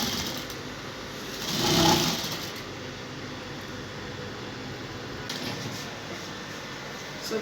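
A sewing machine runs steadily while stitching a fabric inseam with the right sides facing, giving a continuous close mechanical whirr with a brief louder swell early on.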